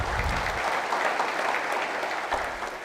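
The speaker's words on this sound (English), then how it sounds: "let's give them a round of applause because we're welcoming them" An audience at a riverway summit event applauds steadily, a dense, continuous wash of clapping that holds at an even level throughout with no talk over it.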